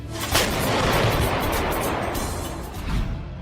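A Slovak EVA self-propelled howitzer fires, producing a heavy, sustained roaring blast that fills the whole span, loud and broad, with a second swell of rumble toward the end.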